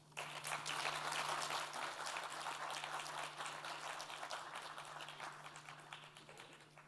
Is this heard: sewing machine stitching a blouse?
no